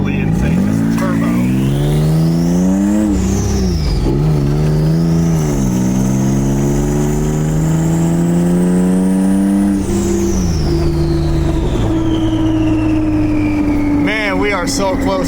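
A turbocharged car engine revs hard at a Roadkill Nights drag race, its pitch climbing and falling through several loud sweeps with a high turbo whistle riding on top, very close and dominating the scene.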